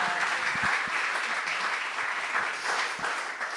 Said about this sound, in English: Should we get another round of applause for everyone?